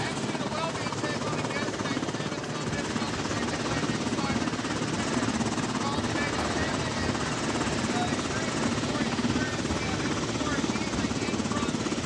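A Coast Guard helicopter roars continuously at close range, a dense, loud rotor and engine drone with steady thumping that never lets up, voices faintly under it.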